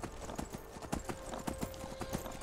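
A horse's hooves clip-clop in a steady, even rhythm during a ride in the Skyrim video game, heard alone at moderate volume.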